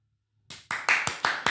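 Hands clapping in a short, quick burst of about six sharp, evenly spaced claps close by, starting after a moment of near-silence.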